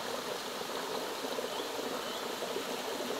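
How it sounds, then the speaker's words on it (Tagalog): Water of a stream flowing at Villa Luz Falls, a steady broadband rush and trickle that fills the whole clip without a break, close and even, with no voices. "Maririnig mo lang dito yung agos ng tubig,"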